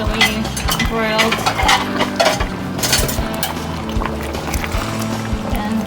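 Clattering and scraping of broiled daikon and vegetables going into a cooking pot of Filipino kare kare, busy metallic knocks and stirring up close over a steady cooking background.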